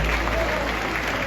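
Church congregation applauding during a ministry anniversary service, a dense steady wash of clapping from the crowd with a voice faintly mixed in.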